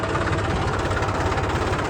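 A tractor engine runs in a farm field, a dense, steady low rumble with constant vibration filling the whole short stretch, no voices.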